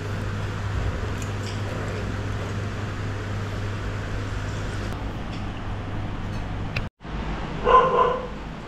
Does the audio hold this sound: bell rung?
no